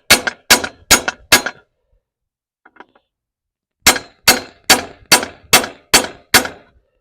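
Loud, sharp metallic clangs of a hammer on metal while pulling a truck's motor and transmission: a run of four quick strikes, a pause with faint clinks, then seven more steady strikes.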